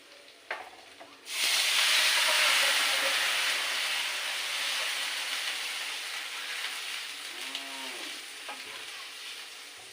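Coconut milk hits a hot pan of fried eggs with an abrupt loud hiss that swells into a sustained steamy sizzle and slowly fades over several seconds, with light clatter before it starts.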